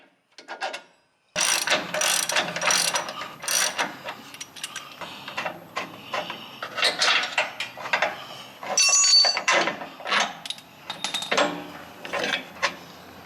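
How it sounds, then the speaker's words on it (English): A hand ratchet fitted with a 21mm socket turning the upper control arm bolts and flag nuts on a Jeep JL Wrangler, a brief click then long bursts of rapid, close pawl clicking and metallic clatter with no talk. "a 21mm socket will be all that you need to remove the bolts"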